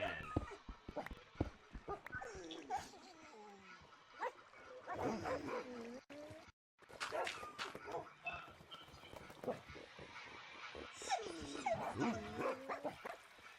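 Dogs in the Minecraft video game bark, yip and whimper in repeated bursts, mixed with other game noises and a short silent gap midway.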